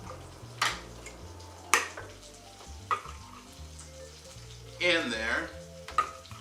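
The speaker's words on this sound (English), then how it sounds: "I'm going to stir them" Chives sizzle in a hot frying pan, a soft steady fry under several sharp scrapes and clinks of stirring, with a brief voice in the middle.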